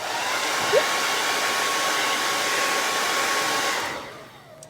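Hair dryer blowing on wet stencil paint on a painted sign, a loud steady close whoosh running continuously before cutting off and winding down near the end.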